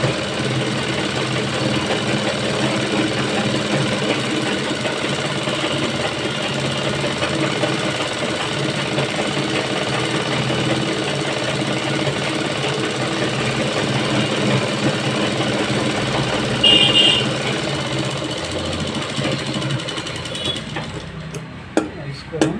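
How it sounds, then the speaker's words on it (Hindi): A sewing machine runs continuously with a dense mechanical rattle while double-stitching the seams of a salwar, stopping briefly near the end. "अब हम इसको डबल सिलाई कर लेंगे जिससे कि मजबूती बढ़ जाए"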